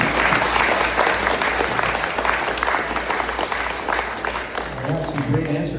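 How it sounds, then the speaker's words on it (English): Audience applause fills a candidates forum hall, a dense, steady burst of clapping from a crowd that gradually thins toward the end while a voice begins over it. "let's give an applause for round two questions"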